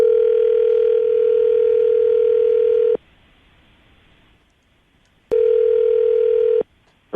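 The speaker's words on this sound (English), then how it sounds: "I'm going to dial the phone over right now" Telephone dial tone while placing a call, a loud steady hum lasting about three seconds, a pause, then the same tone again for just over a second, with no voices.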